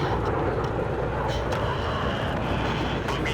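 Enemy fighter jets roar in a Battlefield 3 campaign dogfight, a steady, loud, broadband engine rush that continues for the whole moment with no break.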